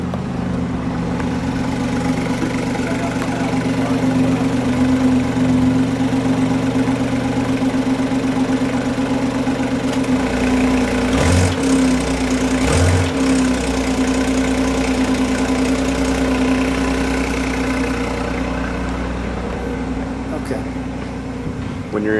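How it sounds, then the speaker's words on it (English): A 2019 BMW i8 Roadster's engine runs steadily at a low idle-like drone for about twenty seconds, with two brief sharp bursts near the middle that sound like quick revs, under faint background talk. "let's actually fire the engine. We're going to give it one rev while you've got the brake on"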